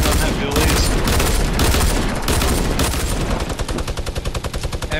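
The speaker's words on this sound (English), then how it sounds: "Every single one has duelies and one has a minigun." Dual pistols fire loud, rapid, continuous volleys in a shooter video game, dense overlapping shots from multiple guns throughout, tightening into a fast even rattle toward the end.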